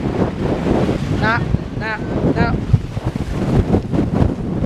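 Strong wind buffets the microphone outdoors in a continuous rumbling roar, while voices call out a few times over it.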